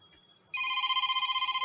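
A telephone bell for a radio call-in caller starts abruptly after a brief quiet moment and rings steadily and loudly up close, with no voices over it.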